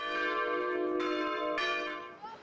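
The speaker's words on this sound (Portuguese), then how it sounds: "O sino só toca antes da missa das 6 horas da tarde." A church bell rings before the 6 pm mass, its sustained metallic tone layered with rich overtones and struck afresh twice, each new stroke swelling over the lingering hum, heard alone with no voices.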